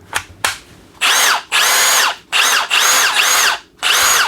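A Milwaukee M18 Fuel Gen 4 cordless impact driver (2953) whirs loudly in several bursts, revving up and stopping, after two sharp clicks at the start.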